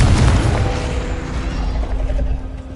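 A Confringo blasting curse from Hogwarts Legacy bursts in a loud, heavy explosion with a deep rumbling boom that slowly fades over nearly three seconds, with no voices.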